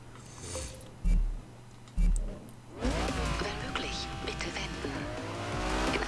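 A car drives in the racing video game Forza Horizon 2, with engine noise surging and tires squealing as it speeds up, mixed with game sounds and someone talking over it.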